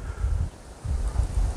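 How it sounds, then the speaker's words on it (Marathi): Wind rising from deep valleys below a railed lookout in the mountains at Matheran, low gusty rumbling that swells, dips and swells again with microphone buffeting. "घोंगावणारा वाऱ्याचा आवाज येतो एकदम"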